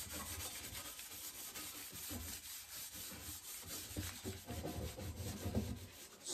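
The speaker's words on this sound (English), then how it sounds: "I still need to scrub." A copper pan is scrubbed with Barkeeper's Friend, producing a faint, steady, rhythmic rubbing and scouring with repeated back-and-forth strokes and no talking.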